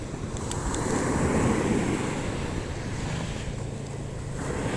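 Strong ocean waves surge and wash continuously, mixed with gusty wind noise buffeting the microphone, loud and close.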